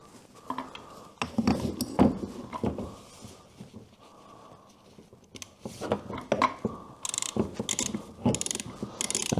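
A new oil filter is fitted on a BMW R1100GS motorcycle, with scattered metallic clicks, ratcheting and scraping taps in uneven bursts, close and fairly quiet, with pauses between.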